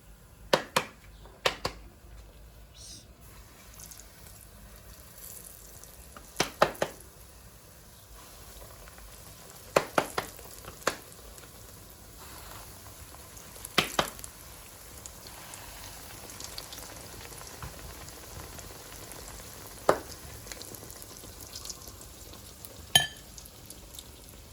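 Pirozhki frying in a pan give a faint, steady sizzle, broken by scattered sharp crackles and pops over about twenty-five seconds, with no one talking.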